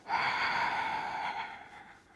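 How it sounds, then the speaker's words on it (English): A single long nasal breath during a Pilates workout on a wunda chair, a steady airy rush that holds strongly then tapers off, close and alone. "We take an inhale through the nose, and then exhale out."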